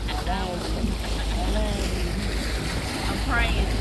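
Gondola ride along Venice's Grand Canal, with steady water and wind rush over a low constant rumble, faint voices drifting in and out through the background.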